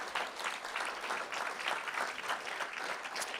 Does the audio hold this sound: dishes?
no